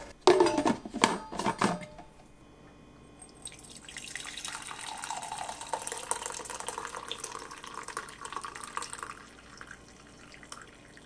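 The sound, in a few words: pouring coffee from Keurig K-Duo Plus carafe into cup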